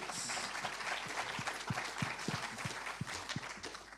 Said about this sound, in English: So give the guys a quick round of applause, please.